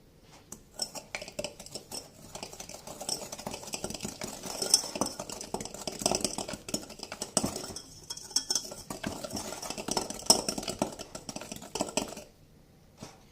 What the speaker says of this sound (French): je bats les 3 jaunes d'œufs avec les 45 g de sucre